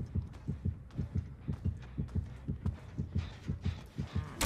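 Killer's terror-radius heartbeat from the video game Dead by Daylight, a deep, steady double-thump pulse repeating about twice per second, loud and continuous throughout with no voices.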